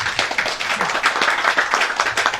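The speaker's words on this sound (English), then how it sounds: "A round of applause for Kyle, please." Festival audience applauding a guest named Kyle, a short, dense burst of close clapping with individual hand claps standing out.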